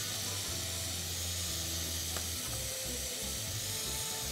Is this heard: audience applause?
no